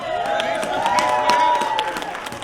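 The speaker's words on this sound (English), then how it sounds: "another round of applause, please, and Ryan Ink." A crowd at an outdoor rally in Yelm, Washington claps and cheers steadily under a voice and a sustained tone, the applause dense and fairly loud throughout.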